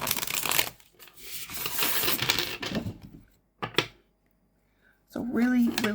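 A linen-finish tarot deck is riffled and shuffled in several loud crackling bursts separated by brief pauses, with a voice heard at the end.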